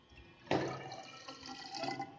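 Water poured from a glass beaker into a measuring cylinder in a physics class, with a sudden splash at the start followed by a steady, moderately loud trickle and gurgle as the liquid fills the cylinder.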